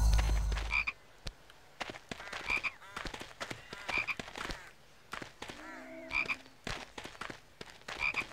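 A frog in the Harry Potter and the Chamber of Secrets PS2 video game croaks repeatedly at a steady pace of about one call every second or so. Softer game effects sound between the croaks.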